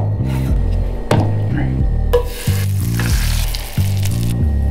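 Bagels toast in a hot pan with a steady sizzle, broken by a few sharp clatters and scrapes as they are moved and flipped. Low musical tones run beneath it.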